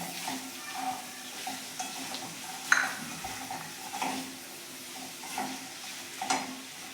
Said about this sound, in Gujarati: હવે આપણે આની અંદર વટાણા નાખીશું